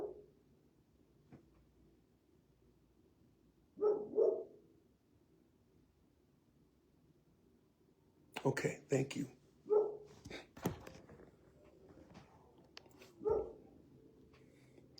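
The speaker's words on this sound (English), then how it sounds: "This dog's going to keep barking." A dog barks in scattered bursts, a lone call followed later by a quick cluster of barks and one more, while someone briefly speaks between them.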